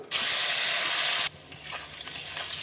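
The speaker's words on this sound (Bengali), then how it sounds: "আলুটাকে লাল করে ভেজে নেব" Cut potatoes frying in a wok, a sudden loud close sizzle that hisses steadily for about a second before dropping to a quieter, continuing crackle.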